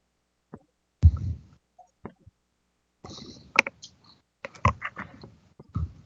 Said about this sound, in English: as I'm typing these up for you